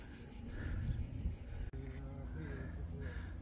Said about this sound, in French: Tu entends les cigales?